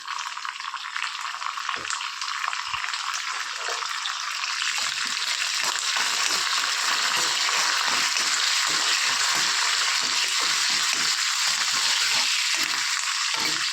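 A tadka of coriander and chili powder sizzles steadily in a hot pan for a Tirupati-style sambar, a dense continuous hiss with soft crackles and light pops, close and alone.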